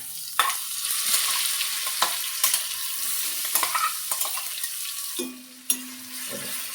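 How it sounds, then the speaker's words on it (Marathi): Vada pav filling of spiced masala, curry leaves and mashed potato sizzles in a pan while a spoon stirs and scrapes steadily, close and moderately loud, with sharp clinks against the pan and no talking. "हा मसाला चांगला परतून घ्यायचा हा बटाटा"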